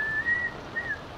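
A storyteller in a children's tale whistles briefly, imitating a character calmly whistling on a ship's deck: two short, thin melodic whistles over a steady background hiss.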